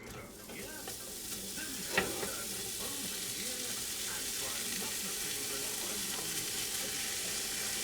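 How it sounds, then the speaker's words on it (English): Bacon frying uncovered in a Ninja Foodi Possible Cooker Pro, a steady broadband sizzle with a brief clatter near two seconds, close and continuous with no talking. "so I'm going to add in my bacon."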